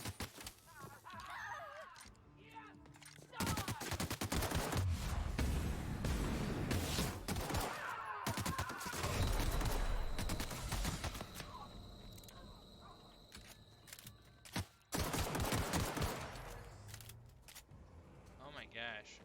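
Gunshots in The Outer Worlds, a series of sharp game shots and bursts spread across the stretch, sometimes loud and dense, with a person talking over parts of it.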